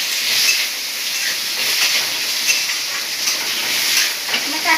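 Onions fry in a pan for Odia home-style koltha dalma, producing a bright, even hiss that holds steady for the whole stretch with only slight swells.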